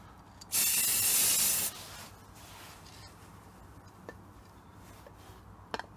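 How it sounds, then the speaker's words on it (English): Spray paint hisses from a can in one loud burst of about a second, followed by quiet room tone and a couple of faint clicks. "And then with a little bit of spray paint,"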